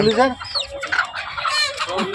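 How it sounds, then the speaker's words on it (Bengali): Desi chickens cluck and squawk at a busy village market in Ghatal, several birds close by with lively, overlapping calls over crowd noise. "দেখতে পাচ্ছেন একটা সাদা কালার দেশি মুরগি আছে"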